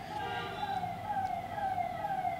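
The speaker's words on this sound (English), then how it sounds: "Sorry about the ambulance noise in the background." Ambulance siren passing near a hospital, a steady wailing tone sweeping slowly up and down, moderately distant but clear over faint road rumble, with no talk.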